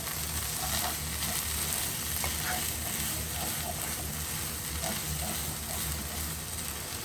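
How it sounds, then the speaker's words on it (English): Crushed borlotti beans with chopped herbs and chard cooking in a pan, a continuous close frying sizzle and hiss with faint scattered pops, steady and even throughout with no voices. "Just let those infuse and just cook through my beans."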